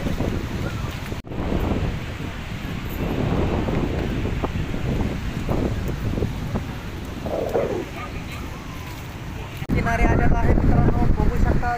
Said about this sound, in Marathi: समुद्र आहे तो खवळलेला आहे प्रचंड प्रमाणात खवळलेला आहे